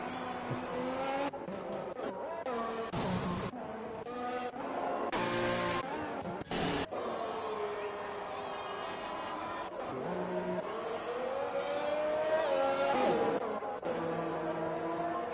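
Race cars in F1 2021 lap a track, with engines whining and shifting pitch as they pass. Several cars sweep by in quick bursts and tires squeal briefly, and one engine note rises steadily toward the end.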